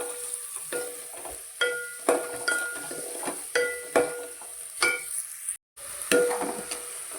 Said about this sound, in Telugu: సో ఇప్పుడైతే ఒకసారి బాగా మిక్స్ అయితే చేసుకుందాం.